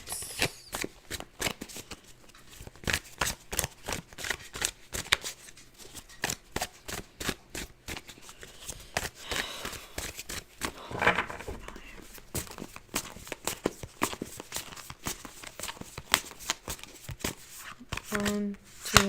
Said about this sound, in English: it shuffles really well. Shuffles very nicely.